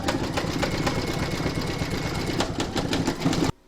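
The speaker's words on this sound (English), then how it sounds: "The next round to be stitched is round number 12, and that's going to do the satin stitch around his vest and the details on it as well." Embroidery machine sewing a satin stitch around a doll's vest, a fast steady mechanical chatter up close that stops abruptly at the end.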